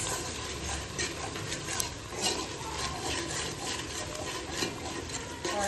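Chole stirred with chole masala in a pot, soft repeated rubbing and scraping strokes of a spoon at low level, steady throughout.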